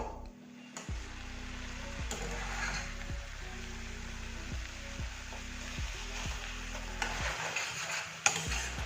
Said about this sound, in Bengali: মাশরুমটাও আমরা ভালোভাবে কুক করে নেব।